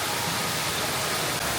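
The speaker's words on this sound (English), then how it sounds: "here's all the waterfall that goes from the top to the bottom" An indoor waterfall at a Bass Pro Shops aquarium pours from top to bottom, filling the space with a continuous, loud, even rushing hiss that holds steady without pause.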